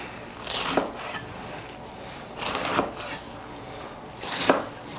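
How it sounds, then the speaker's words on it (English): Knife chopping kale into bite-sized pieces for kimchi, three separate bursts of cutting against a board spaced about two seconds apart, close and moderately loud, with no talking. "We're only gonna maybe cut this in a couple pieces, you know, bite-sized pieces."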